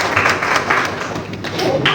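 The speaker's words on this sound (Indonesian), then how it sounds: "Tepuk tangan untuk ketiga temannya." A classroom of students claps for three classmates, a short burst of close, dense hand clapping with uneven swells throughout.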